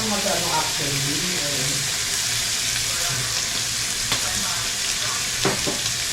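Cooking oil sizzling in a hot pan, a steady bright hiss running throughout with a few clicks and scrapes, under a faint voice early on.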